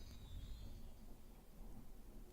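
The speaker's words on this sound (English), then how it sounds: "oh, that's some loud thunder right there." Loud thunder rumbling through a storm, a heavy continuous low roll with light rain hiss over the whole stretch, no voices over it.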